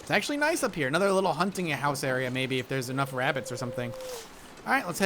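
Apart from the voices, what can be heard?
No everyday noises stand out.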